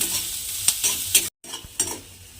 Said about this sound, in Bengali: দিয়ে পেঁয়াজটাকে একটু হালকা করে ভেজে নেব